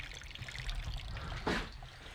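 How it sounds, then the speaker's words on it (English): Water from a drained heating system pipe trickles and pours steadily outdoors, with a brief louder splash partway through. "I found that we got some water coming out."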